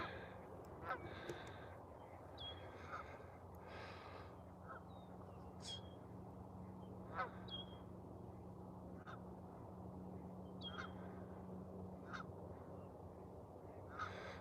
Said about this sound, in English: Oh, some ducks are landing. I think they're widgeons, maybe.